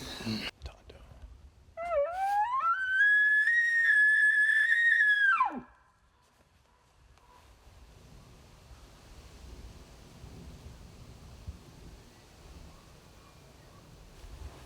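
A single loud bull elk bugle rises into a high sustained whistle, then drops off abruptly, followed by quiet outdoor ambience with faint rustling.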